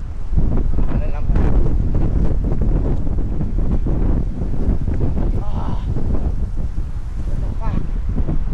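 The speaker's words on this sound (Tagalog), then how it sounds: "Sobrang lakas ng windy." Strong, hot, humid wind buffets the microphone in a loud, continuous roar, with talking faintly audible beneath the gusts.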